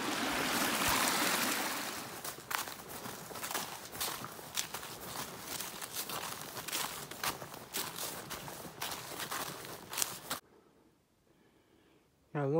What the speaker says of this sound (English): Water flowing everywhere.